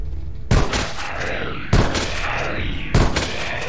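Shotgun blasts in the video game LifeAfter: three heavy, booming shots spaced about a second apart, each with a long reverberant tail that trails off before the next.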